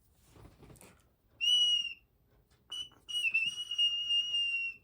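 Toy whistle from a Burger King SpongeBob meal, shaped like a clarinet, blown in two shrill piping bursts, the second longer and wavering slightly, close with faint handling noise before.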